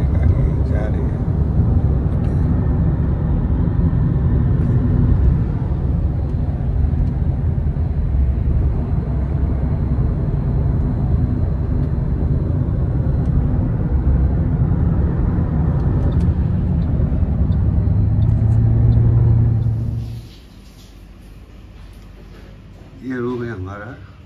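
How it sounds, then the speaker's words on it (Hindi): A tour vehicle driving through Pattaya, Thailand, gives a steady, loud low engine rumble for about twenty seconds with voices talking over it, then the rumble drops away abruptly. "ये हमारी गाड़ी जा रही है"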